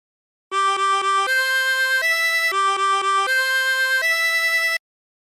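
A 20-hole tremolo harmonica plays the opening phrase of La Cucaracha, a run of quick repeated blown notes rising to longer held ones, repeated twice, clear and alone with its wavering reedy tone.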